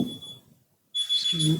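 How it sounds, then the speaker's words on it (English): An alarm beeps with a sharp, high, steady electronic tone, stops briefly, then resumes while a person speaks close by. "That's my alarm, sorry."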